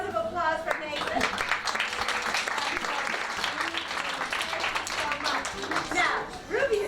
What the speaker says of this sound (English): Let's have a big round of applause for Nathan.